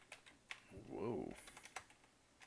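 Quiet typing on a computer keyboard, a handful of scattered light key clicks, with a person speaking partway through.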